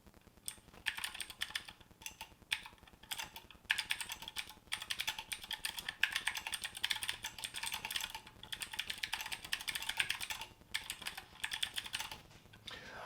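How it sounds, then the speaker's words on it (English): Typing test on a freshly built BM40 40% mechanical keyboard: a steady, close run of quick key clacks with brief pauses between bursts, crisp and fairly loud with no talking. "Just gonna do a quick little typing test"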